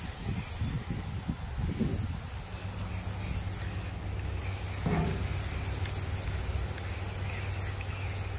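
A spray paint can hissing white paint onto wooden cutouts outdoors in wind, a steady close spray with brief louder bursts over constant wind rumble.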